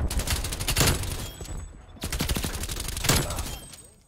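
Gunfire in Black Ops Cold War rattles in dense bursts with a short gap near the two-second mark, loud and close, and a player's voice comes in faintly now and then.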